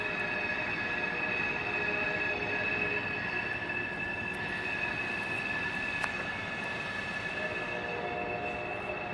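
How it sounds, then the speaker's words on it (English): Railroad cars roll steadily out of a tunnel through a large bluff, a continuous loud rumble with high metallic wheel squeal tones running throughout. "those are the cars coming out on the other side of this big hill"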